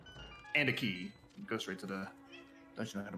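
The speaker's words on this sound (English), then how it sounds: "Pardon the cat interruption." A house cat meows a few times in short, nasal calls, mixed in with someone talking over retro Zelda game audio.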